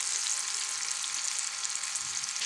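Onions and cumin frying in hot ghee for biryani, a steady bright sizzle close up with no talk over it.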